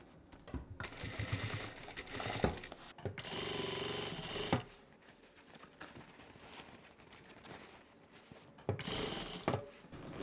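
A sewing machine stitches the seam of a denim handbag in several bursts of rapid mechanical whirring, separated by short pauses.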